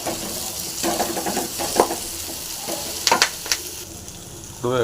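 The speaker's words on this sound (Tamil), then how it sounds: "கரவலையும் போட்டு அப்படியே ஃப்ரை பண்ணிக்கலாம்" Garlic, coriander and curry leaves fry in oil in a pan, a close crackling sizzle with rhythmic spatula scrapes, a brief clatter of utensil strokes, and a fresh surge of hissing at the end.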